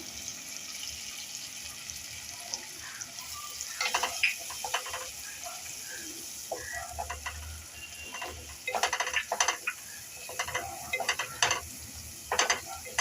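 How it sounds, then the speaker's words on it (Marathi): Spices being stirred into onion and tomato frying in oil for a chavli batata bhaji, with a steady sizzle and bursts of scraping stirring, loud and close, no voices. "टोमॅटो आता लालसर झाला, आपण आता मसाले घालून घेऊया याच्यामध्ये"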